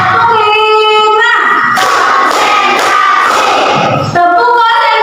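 Classroom of fifth-grade children chanting loudly in unison and clapping together in a rhythmic routine, a teacher's call leading before the group's shouted response and claps.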